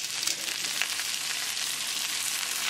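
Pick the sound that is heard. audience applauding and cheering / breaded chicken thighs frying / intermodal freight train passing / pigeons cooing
breaded chicken thighs frying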